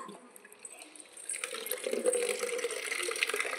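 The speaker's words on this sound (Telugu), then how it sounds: "నీళ్ళు పోస్తున్నావు చెట్లకి కదా" Water is poured from a container onto garden plants, starting quietly and then becoming a steady, continuous splashing trickle for the last couple of seconds.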